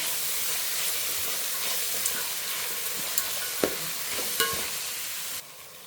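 Onions frying in a pan for avalakki upittu give off a steady, even sizzle, with a few sharp clinks from stirring and no voices.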